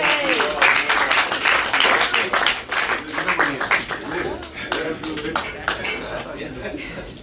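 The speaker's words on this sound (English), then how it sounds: "Clap it up for him." A comedy open mic audience applauds a comedian with dense, rapid clapping that swells early and then gradually thins and fades, with voices faintly mixed in.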